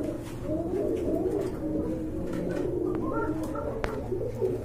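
Racing pigeons in a large dealer's collection coo steadily, with several birds overlapping in a continuous, fairly close murmur and a few brief higher calls mixed in.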